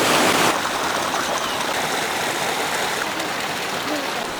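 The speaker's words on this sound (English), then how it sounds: "When water reaches a certain depth on a higher terrace, the excess water spills over to a lower terrace." Irrigation water spills and flows between flooded rice terraces through channels at Dazhai in China, a steady broadband rush of running water that stays loud and continuous throughout, with a brief stronger burst at the start.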